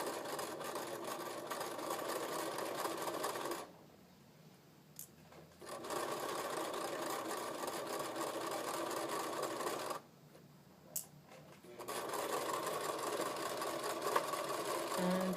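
Sewing machine running in long steady bursts while stitching a flat felled seam, paused twice for a couple of seconds before resuming, close and fairly loud with no talking.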